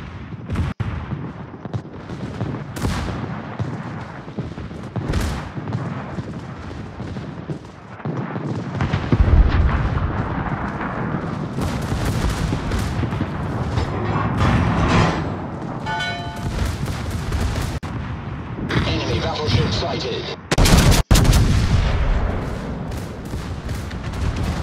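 Naval guns on a Pommern battleship firing at a target in a sea battle, heavy booming shots and blasts rolling repeatedly with dense rumbling between, loud and continuous.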